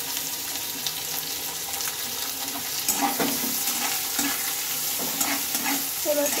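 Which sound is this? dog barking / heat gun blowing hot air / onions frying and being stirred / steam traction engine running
onions frying and being stirred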